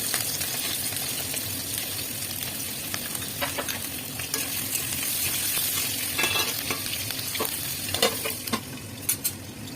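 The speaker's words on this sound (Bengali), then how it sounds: "দেখুন বন্ধুরা, আলুগুলো ভাজা হয়ে যাচ্ছে।" Potatoes sizzle steadily in hot oil in a pan for a Bengali shukto, with intermittent scraping and stirring strokes from a spatula standing out over the continuous frying hiss.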